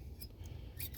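Pruning shears cut bi-colored butterfly bush stems in a nursery, making two quick, crisp snips close by but quiet.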